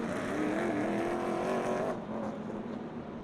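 Race cars roar past on the track at Rockford Speedway during an ARCA Midwest Tour All-Star 100, a loud sustained engine drone that fades away partway through as the cars pull off.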